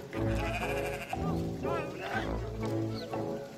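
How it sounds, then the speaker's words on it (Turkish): Sheep bleat repeatedly and loudly up close at a highland pasture as a shepherd tries to catch an escaped sheep, the calls coming in several drawn-out bursts. "Kaçan koyunu yakalamak için biraz uğraşacak gibi görünüyor."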